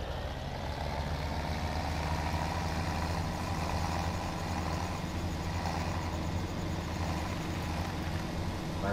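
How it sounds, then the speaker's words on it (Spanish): A tractor engine in Farming Simulator 17 runs at a steady idle, a low continuous rumble with an even hum that holds level and close throughout, with no voices over it. "Y ahora sí que vamos a ir a coger otro tractor"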